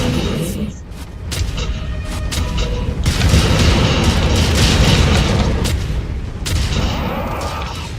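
Incoming missiles in MechWarrior 5 slam down in a loud barrage of booming explosions and crackling bursts, with sharp impacts stacking over a rumbling roar for several seconds.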